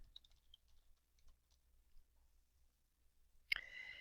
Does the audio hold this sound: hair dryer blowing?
no